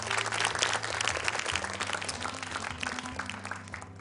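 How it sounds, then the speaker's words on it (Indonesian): A studio audience at an Indonesian televised Quran recitation competition semifinal applauds steadily, a dense wash of clapping that thins slightly toward the end, with a low hum beneath. "Tepuk tangan buat muslimah-muslimah kita."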